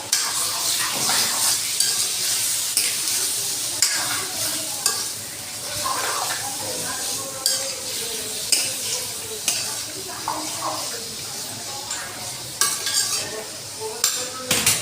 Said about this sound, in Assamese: এতিয়া মাংসটো অলপমান লৰাই দিম।